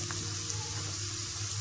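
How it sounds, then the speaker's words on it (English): Peanuts and chopped potatoes frying in a pan for farali khichdi, a steady close sizzle running evenly throughout with no voices. "Now I'm going to add peanuts,"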